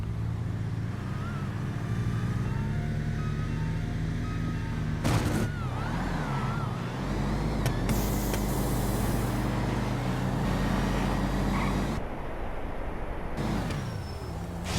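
Engines roar in a GTA 5 street race with a Turbo Imperator, a dense continuous rumble of several cars revving and shifting, loud and unbroken.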